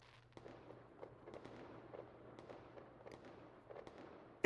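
Fourth of July fireworks pop and crackle at a distance in a quick irregular series of faint bangs, with no speech over them.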